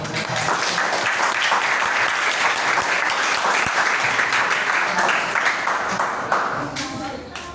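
Sustained applause from a classroom audience during a supervised school lesson, dense steady clapping filling the whole stretch and tapering slightly near the end.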